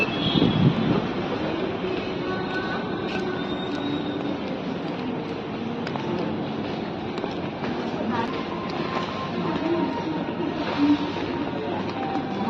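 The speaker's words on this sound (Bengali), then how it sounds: "হ্যাঁ, এটা মেট্রো।" A metro train passing near a Kolkata street, a steady broad rumble and roar filling the whole stretch at moderate loudness, with a few faint clanks and distant background noise.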